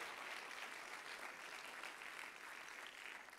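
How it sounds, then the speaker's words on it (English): A church congregation clapping their hands throughout the building, a dense, continuous patter of many hands, fairly faint and even with a slight dip near the end. "Clap your hands all over the building to the Lord."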